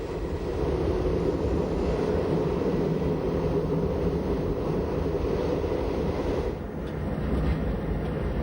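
A Swiss SBB Brünig line train hauled by a four-motor 2,500 hp locomotive on a level stretch, producing a steady, loud rolling rumble with continuous wheel and motor noise throughout, no voices.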